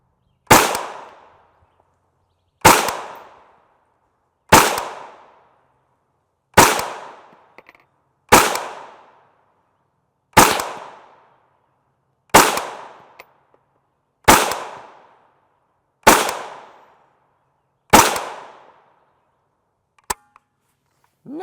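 Gunshots from a 5.7x28mm pistol firing 40-grain Hornady Critical Defense FTX rounds, ten sharp loud reports spaced evenly about two seconds apart, each with a short decaying echo, then a faint click near the end.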